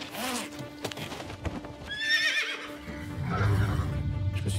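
A ridden horse, trained for show jumping, gives a clear, loud whinny midway, with hooves clip-clopping steadily beneath and continuing louder toward the end.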